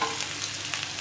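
Potatoes frying in a pan with a brief, steady sizzle and soft stirring.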